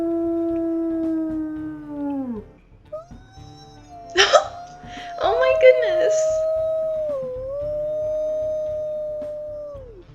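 Wolf howls in the WolfQuest game, long sustained tonal howls that slide and waver, with a woman briefly exclaiming over them partway through.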